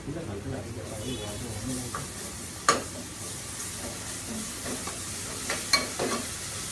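Goat head curry with tomatoes, Telangana style, being stirred in a sizzling pan: continuous frying hiss with occasional scraping stirs and a few sharp clinks, with a voice talking over the cooking.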